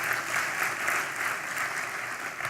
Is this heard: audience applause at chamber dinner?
yes